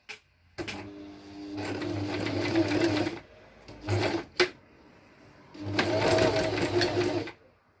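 A sewing machine stitching fabric back and forth for a child's face mask, running in steady loud bursts separated by brief pauses and a couple of short stops, with no talking.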